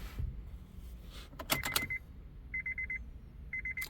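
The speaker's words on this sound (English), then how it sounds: "Turn ignition off." A car ignition key, one of the Xhorse universal keys being programmed, is turned off with a brief jangle of keys, followed by repeated trains of rapid high electronic beeps from the vehicle.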